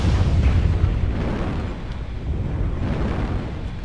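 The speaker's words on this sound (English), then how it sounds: "Airstrike activated." A heavy airstrike blast rumbling across a battlefield of giant mechs in MechWarrior Online, a deep, sustained low roar that stays loud and slowly fades, with no talking.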